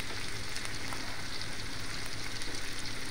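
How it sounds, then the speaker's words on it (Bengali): Green chili, ginger and cumin pastes sizzle in hot oil with onions, a dense, steady frying hiss that stays even and close throughout, with no voices. "এই বাটা মশলাগুলি আমরা দিয়ে দিচ্ছি গরম তেল পেঁয়াজের সঙ্গে।"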